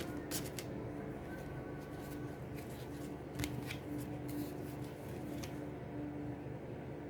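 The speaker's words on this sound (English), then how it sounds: "I'm going to get a couple of Sharina's fortune cards for you next" Tarot-style fortune cards being shuffled and drawn in a Taurus reading, a steady papery riffling and sliding close by with a few sharper flicks as cards are pulled, continuous throughout with no talk.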